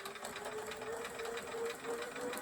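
A sewing machine stitches slowly through quilting fabric, a soft, steady whirring hum with faint rhythmic needle ticks, alone and fairly quiet.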